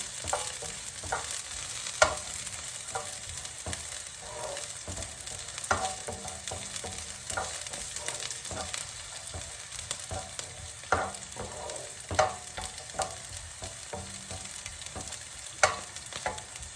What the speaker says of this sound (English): we're keeping them moving just to stop them from burning, stop them from catching on the bottom of the pan